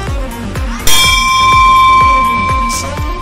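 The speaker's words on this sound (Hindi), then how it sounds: "घंटी बजाने का भूले जब" A temple bell is struck repeatedly in an even rhythm, each clang ringing out loud and close, with long bright overtones building into a sustained shimmer as the strikes continue.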